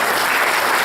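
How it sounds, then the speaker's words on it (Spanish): Dense, steady applause from a large church congregation, sustained and loud throughout with no voices breaking through. "Vamos a dar un fuerte aplauso al Señor por ello."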